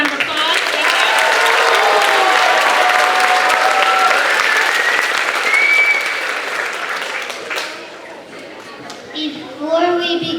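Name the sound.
audience applause at a grade school event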